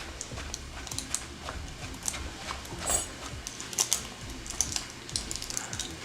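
A knife cuts food into thin julienne strands for Filipino halo-halo, quick, light tapping strokes on a cutting board, fairly faint and close, coming in uneven rapid clusters.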